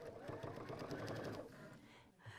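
Sewing machine stitching a quilt block, a steady mechanical whir for about a second and a half that then slows and stops, with faint background noise afterward.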